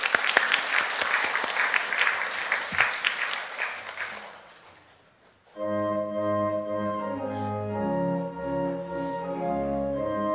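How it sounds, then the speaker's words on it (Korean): A church congregation claps together during a Sunday morning service in a loud, dense burst of applause that fades out after a few seconds, followed by organ music and hymn singing. "우리 박수로 함께 축하하겠습니다."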